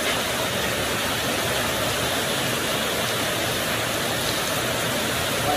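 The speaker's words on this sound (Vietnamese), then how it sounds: "Ôi trời ơi, mưa kinh khủng quá" Heavy torrential rain pours down steadily in Ea Kar, Dak Lak, a dense, loud, continuous roar of water with no letup and no voices.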